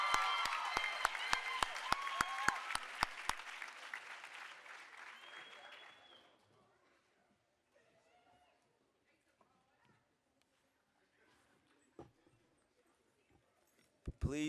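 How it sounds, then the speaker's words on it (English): Applause for academy staff at a high school graduation ceremony, with sharp claps and a voice speaking over the start; the clapping fades to near quiet, and a few scattered sounds follow. "Let's give them a round of applause."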